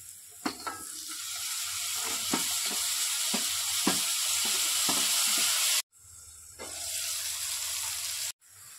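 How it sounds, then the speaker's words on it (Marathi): Tomatoes sauté in a hot pan for a Marathi leafy greens dish, a steady close sizzle broken by soft spatula taps and stirs, with brief cuts to silence and no talk. "त्याला परतवून घेतलं आणि टाकलं टमाटर"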